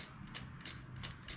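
Faint, sharp clicks of a relay on a Toro Wheel Horse 520H garden tractor that won't start, repeating roughly every third of a second, a steady mechanical ticking over a low background hum.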